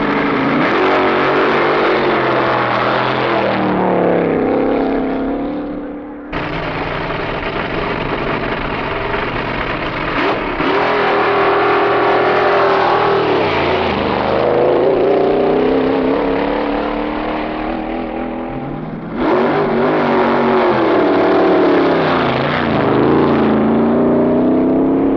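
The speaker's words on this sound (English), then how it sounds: "Time trials are an important part of the meet, offering the driver a chance to get the feel of the strip and check the performance of the car." Drag racing cars at the 1963 NHRA Winternationals time trials, loud engines roaring and revving in long surging passes with rising and falling pitch, one burst cutting off sharply before another car takes over.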